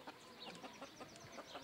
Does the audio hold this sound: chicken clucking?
yes